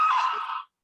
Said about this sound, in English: that sounds like a girl horror scream